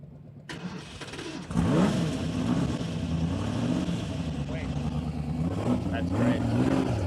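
A car engine at Lime Rock Park catches after a short crank and settles into a loud, close rumble, rising and falling through several revving swells, with voices faintly underneath.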